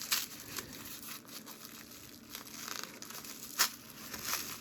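Taped Hot Wheels mail packages being opened, with close crinkling and rustling of packaging, intermittent tearing of tape and paper, and a few louder rips.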